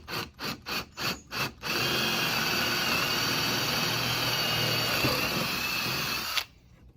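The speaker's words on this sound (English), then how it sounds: "Drill it at about a 45-degree angle." A power drill bores at a 45-degree angle into two 2x4s screwed together, starting with several short rhythmic bursts before settling into a long, steady, loud whine that stops abruptly near the end.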